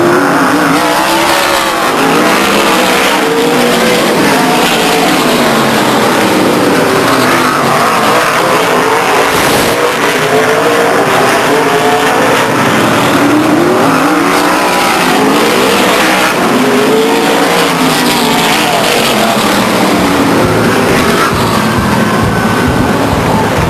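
Race cars roar around Stockton 99 Speedway, engines loud and continuous as cars pass close and rise and fall in pitch lap after lap, with the crowded racing noise filling every moment.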